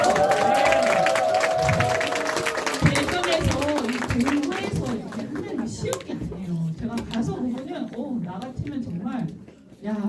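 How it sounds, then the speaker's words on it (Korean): Audience applause at a Democratic Party member education event in Daejeon, a burst of clapping from a crowd that fades over several seconds, with a speaker's voice heard over it. "박수 한번 쳐주세요."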